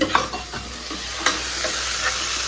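Dried red chilies, garlic, cumin, pepper, curry leaves and coriander crackle and sizzle while tempering in hot oil, with scattered pops and a constant frying hiss, close up and fairly quiet, no voices.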